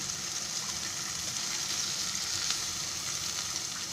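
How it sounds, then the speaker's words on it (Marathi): Paneer cubes fry in a pan, giving a steady, even sizzle with faint crackles that runs unbroken throughout, fairly quiet and close, with no talking. "म्हणजे फ्राय का करायची, म्हणजे ते जरा कडक होतात"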